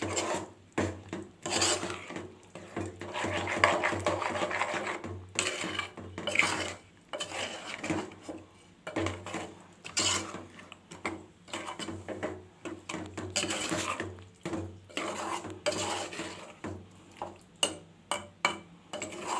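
Mutton kulambu being stirred in a pan, a spoon scraping and rasping against the metal in uneven strokes, close and continuous with clinks between scrapes.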